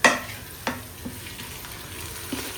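Herbs, mint and coriander, dropped into hot oil with golden fried onions for mutton biryani, sizzling and frying steadily, with a sharp burst at the start and a few soft stirring knocks after.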